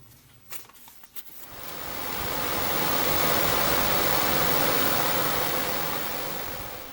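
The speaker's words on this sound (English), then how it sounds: "Most of the noise you hear going on here is the room air cleaner." A room air cleaner runs with a steady, loud broadband whoosh that fills the space, preceded by a few faint clicks and handling sounds before the airflow swells up and holds.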